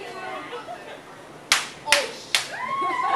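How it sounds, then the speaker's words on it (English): Three sharp, loud birthday spanking slaps land about half a second apart, cutting through a noisy room with chatter and voices continuing between and after the hits. "Crowd, do you think that was enough birthday spankings?"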